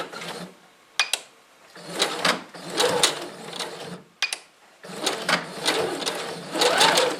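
A sewing machine stitches and backstitches a bouclé knit cardigan, running in several short whirring bursts separated by brief pauses and clicks, close and steady.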